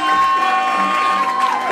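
Audience at a modelling competition cheering and clapping for the winner, a steady loud crowd roar with whoops, tonal music or ringing underneath throughout.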